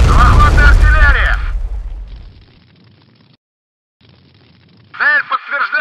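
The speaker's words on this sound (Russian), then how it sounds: "Захватная артиллерия!" Artillery shells explode in a military video game mod set in eastern Ukraine: a loud, deep boom rolls out and fades over a couple of seconds, and sharp bursts follow later, with a voice calling out over the opening blast.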